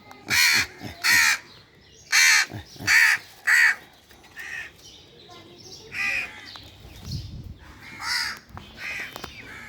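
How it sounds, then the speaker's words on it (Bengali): Several crows caw in loud, harsh bursts in the first few seconds, then call more faintly and intermittently, while a person talks quietly in the background. "আর এই যে আমার কাকগুলো দেখেন পাগলামি করতেছে"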